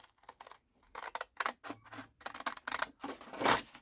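Small scissors cutting paper for a handmade tea box, a few short snipping and rustling bursts, close and fairly quiet, with brief pauses between cuts.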